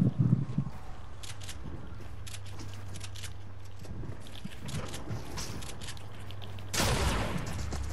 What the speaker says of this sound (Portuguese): Caralho, que tiro é esse, meu amigo?